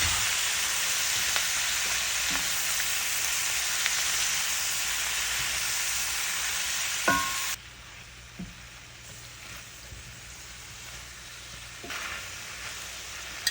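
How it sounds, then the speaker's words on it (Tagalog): Butter, garlic, onions and bok choy sautéing in a pan, a dense loud crackling sizzle that suddenly drops to a quieter simmer partway through, with a few clinks of a utensil. "We're going to saute lots of garlic too."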